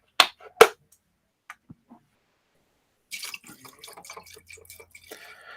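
Orange juice is poured into a cocktail shaker for a mixed drink, giving a few sharp splashes and drips, then a longer stretch of trickling, gurgling liquid. It is close by and fairly quiet, with no talk.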